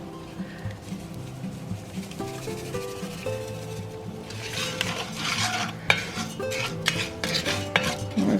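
A spoon stirs Sazon seasoning into rice in a pot over high heat, with steady scraping and clinking against the metal through the pass. Soft sizzling builds partway through, and a few sharper knocks come near the end.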